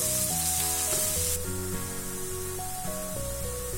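Asafoetida sizzles in hot oil in a kadai for tempering, a dense close hiss that is loudest at first and then eases slightly, with background music throughout.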